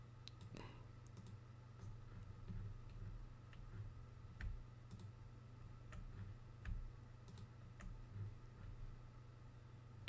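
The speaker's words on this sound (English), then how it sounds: "I'm going to hit the Control key and hold that down while I click the next ones" Computer mouse clicks sound faintly and irregularly while multiple photos are selected with the Control key held down, scattered sharp ticks over a low steady hum, with no talk.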